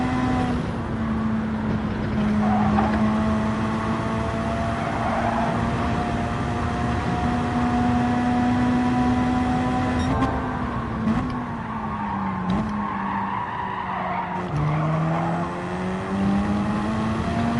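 Mitsubishi race car in Gran Turismo 7 at Seaside, its engine droning loud and steady as it holds high revs, with pitch dips as it shifts and brakes, plus tyre scrubbing through corners.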